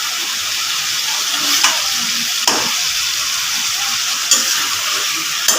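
Potatoes and tomatoes frying with spices in a pan, dhaba-style: loud, dense, steady sizzling hiss with a few sharp clinks of a spoon stirring against the pan.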